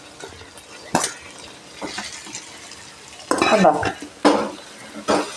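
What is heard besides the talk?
stirring crushed kanthari chili in a frying pan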